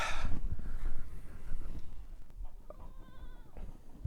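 Several goats bleat in short wavering calls, some overlapping, against a rough outdoor background with wind-like noise.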